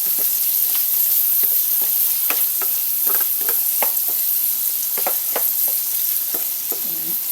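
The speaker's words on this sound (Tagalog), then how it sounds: "nagigisa tayo ang ating pork. Para mag-brown din siya." Pork sautéing and browning in a pan, a loud, steady high sizzle with scattered spatula scrapes and clicks close by, no voices.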